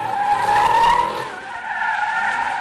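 Kart drifting tire skid, a loud continuous screech with a strong tonal squeal that dips briefly midway then resumes, heard close and alone.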